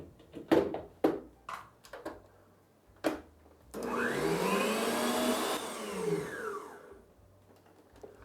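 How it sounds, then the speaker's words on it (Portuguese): Electric stand mixer whipping egg yolks with sugar for an Italian tiramisu cream, running steadily for about three seconds with a shifting whine, after several short clatters and knocks. "Vamos entrar com as gemas e com o açúcar. Levar para a batedeira."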